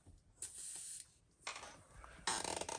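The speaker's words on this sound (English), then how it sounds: "I'm going to spray just a little bit of water right here on this connector" Short hissing bursts of a spray bottle misting a little water onto a connector while painting a fishing lure, three separate sprays, close and fairly loud.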